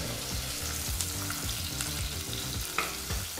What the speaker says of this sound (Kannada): ಈರುಳ್ಳಿನ 2 ನಿಮಿಷಗಳ ಕಾಲ ಮೀಡಿಯಮ್ ಫ್ಲೇಮ್ನಲ್ಲೇ ಫ್ರೈ ಮಾಡ್ಕೋಬೇಕಾಗತ್ತೆ